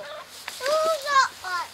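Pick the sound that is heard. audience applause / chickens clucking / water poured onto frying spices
chickens clucking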